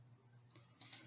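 A few crisp computer mouse clicks sound close and faint over a low steady hum, with two sharper clicks near the end.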